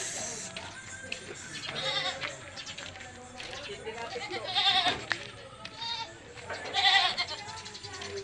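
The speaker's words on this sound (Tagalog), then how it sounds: "yan ang mga alagang kambing ng aking ina" Pet goats on a family farm bleat a few times, short nasal calls close by, with a person talking quietly among the animals.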